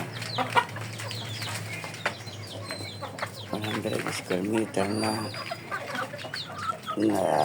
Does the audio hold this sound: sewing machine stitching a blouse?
no